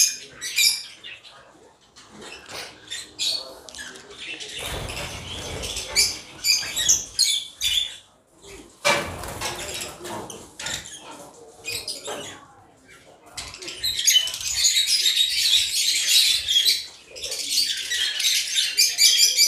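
Caged lovebirds and budgerigars chirp and chatter in busy, scratchy bursts, with bright high calls swelling and fading around a nearby setup of old cages.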